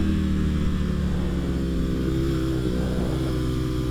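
A BMW M1000RR motorcycle on a racetrack, its engine holding a steady, loud, droning note with slight pitch shifts as it runs under load, heard close and continuous throughout.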